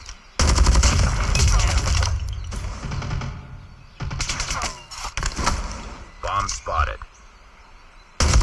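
Bursts of gunfire in the video game Call of Duty, rapid loud volleys with pauses between them and a voice talking in the gaps.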